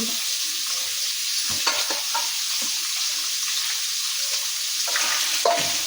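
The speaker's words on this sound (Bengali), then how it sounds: "মাছটি ভাজাইতে থাক" Fish frying in a pan for a fish and cauliflower curry, a soft continuous sizzle with occasional clinks and stirring knocks, plus faint running water in the background.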